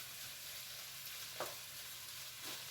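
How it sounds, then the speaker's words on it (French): Peppers, bacon lardons and onions sizzle steadily in a pan, with a couple of soft scraping stirs breaking through the continuous frying hiss at close range. "les lardons, les oignons, tout ça, je remue bien pour bien mélanger"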